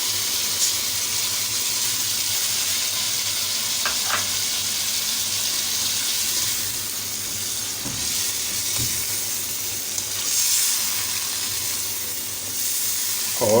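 Ginger garlic paste sizzles and hisses steadily in a hot karahi pan for Balochi tikka karahi, with occasional scrapes and knocks as it is stirred, and no talking.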